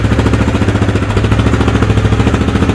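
A Kawasaki Lakota motorcycle engine with a freshly adjusted carburetor idle runs loud and close in a steady pulsing chug, its rhythm shifting slightly as the revs change partway through.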